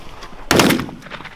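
A single loud 16-gauge shotgun blast goes off during a goose hunt outdoors, a sharp close report that decays quickly into open-air quiet.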